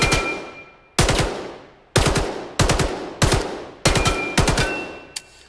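A UMP45 submachine gun firing in the VR game Vail VR, with several sharp bursts of two or three rapid shots spaced about a second apart, each echoing and decaying, ending with a brief click.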